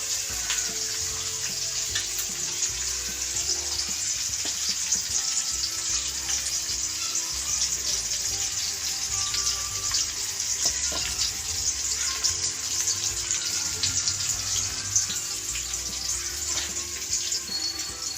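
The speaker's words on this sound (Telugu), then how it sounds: "ఇవన్నీ బాగా ఎర్రగా అయ్యేదాకా బాగా వేగనిద్దాం ఆయిల్లోనే" Onions and green chillies fry in oil for a chicken curry, a steady hissing sizzle running throughout with faint scattered crackles, close and even.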